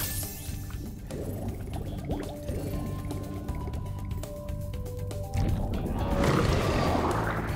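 Underwater ambience from the Spyro Reignited Trilogy video game: soft liquid burbles, drips and bubbling swells, quiet and continuous, rising in a brief gush near the end.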